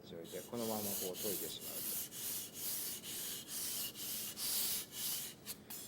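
A knife blade is drawn repeatedly across a whetstone at a flat, incorrect angle, giving a series of quiet, rhythmic gritty scrapes, about ten strokes in steady succession.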